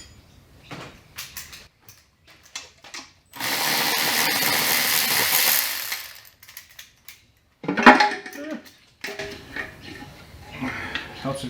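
Power tool removing bolts from an Ecotec turbo engine in a budget e46 build, one loud whirring burst of about 2.5 seconds plus a shorter rattle later, amid clanks and someone talking.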